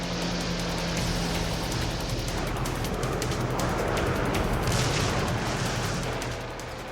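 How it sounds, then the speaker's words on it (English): A massive artillery bombardment pounds an island in the WWII Pacific theater, a dense, unbroken roar of overlapping blasts and rumbling impacts, loud and continuous throughout. "for 75 days the island is pummeled with a massive bombardment"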